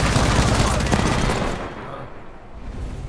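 Rapid gunfire in the video game Apex Legends played on PC, a loud dense burst of shots for about a second and a half before fading into quieter ambient game sound.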